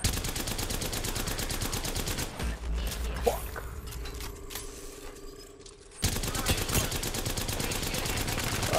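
Rapid automatic gunfire in Apex Legends, loud and continuous, breaking off for a quieter stretch of mechanical clatter before the firing resumes.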